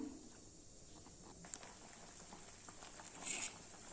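Soft bubbling and patter from a pot of tamarind eggplant curry simmering on a stove, a faint continuous burble with occasional small pops.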